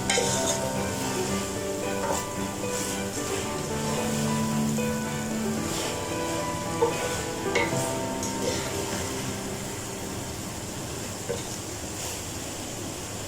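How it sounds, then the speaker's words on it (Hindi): Sliced okra with onion and salt being stirred in a pan, a steady soft sizzle under repeated scraping and tossing strokes, close and continuous, with a quiet background tone running through. "नमक ऐड करके मिक्स कर लेते हैं ताकि पूरी भिंडी में नमक जो है वो चला जाए।"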